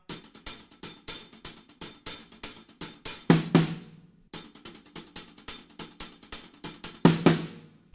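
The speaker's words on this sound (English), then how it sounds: "we have a fill, and it's just on the snare drum." A snare drum fill on a drum kit, played as rapid, evenly spaced hits that build in two bursts, each ending in a louder crash-like accent, close and unaccompanied.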